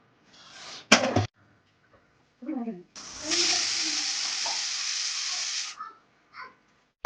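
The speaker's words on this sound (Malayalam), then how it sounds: "അപ്പോൾ അവന് വേണ്ടിയിട്ടൊരു താറാമുട്ട പൊരിക്കുന്നുണ്ട്" A duck egg fries in a home kitchen pan, a loud steady sizzle running for nearly three seconds after a sharp clatter and brief utensil knocks, with a short spoken phrase in between.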